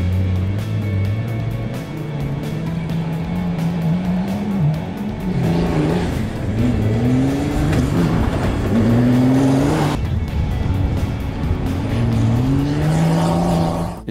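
A diesel Mini All4 Racing rally car with a big engine drone that rises and falls through gear changes, the revs climbing and surging as it accelerates, loud and close from the cabin with no talking.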